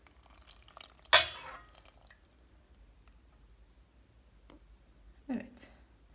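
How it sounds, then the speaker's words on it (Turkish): Tomato sauce for collard-green stuffed rolls is poured into a cooking pot. A brief wet splash comes first, then soft liquid trickles, and a second smaller slosh follows a few seconds later. "Evet sosumuzu şimdi tencerenin içine döküyoruz."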